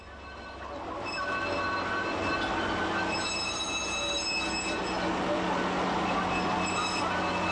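A diesel hydraulic peat railway locomotive hauls a rake of empty wagons near Lanesborough, Ireland, its rumble building after the first second into a steady rolling clatter with faint squealing wheels, passing fairly close.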